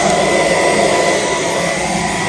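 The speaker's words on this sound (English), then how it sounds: "This makes it really easy to vacuum the stairs." A Dyson cordless vacuum cleaner running continuously while vacuuming stairs, a loud steady close whine and rush of suction with no talking.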